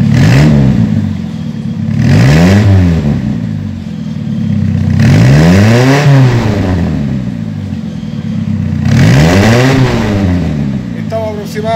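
A Mini Cooper fitted with an MOA carbon fibre exhaust is revved hard three times from idle, each long surge rising and falling loudly close to the tailpipe, with voices briefly audible between pulls.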